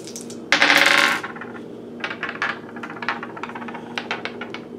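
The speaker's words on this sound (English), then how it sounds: "Let's do the dice on this." Dice rolled during a tarot reading: a burst of clattering as they are shaken and tumble, then a scatter of small sharp clicks and taps as they settle, close and fairly clear.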